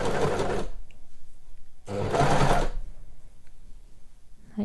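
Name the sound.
sewing machine sewing sweatshirt cuff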